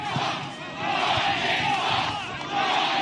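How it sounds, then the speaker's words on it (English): A large crowd at a Trump rally roars and cheers in loud, sustained waves, briefly dipping before swelling again. "What a crowd."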